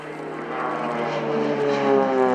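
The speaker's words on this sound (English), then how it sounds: "During this solo display, let me give you a few technical details about the Pilatus PC-7 aircraft." A Pilatus PC-7 propeller trainer flying a solo display at the RIAT 2018 airshow at Fairford, its engine and propeller droning steadily with a rising harmonic whine, fairly close and growing louder, no talking.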